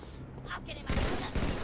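Gunfire in Halo 3 cracks out in two loud bursts near the end, following a short stretch of quieter in-game noise.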